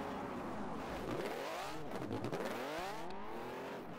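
Car drifting in FlatOut 2, a loud continuous engine roar with pitch sweeping up and down through repeated revs and slides, tires likely squealing underneath, filling the whole stretch.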